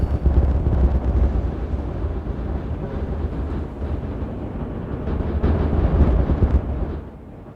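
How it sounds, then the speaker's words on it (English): Heavy, rumbling booms from explosions in the video game Timberborn roll on continuously, deep and loud like a string of big blasts, fading out at the end. "And here comes the explosions"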